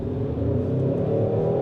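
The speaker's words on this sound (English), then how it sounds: "Fake engine noise" Synthesized engine note from active sound design in a 2024 Hyundai Sonata N Line sedan, a steady, droning hum held at a constant pitch, fairly loud and close, with no voices.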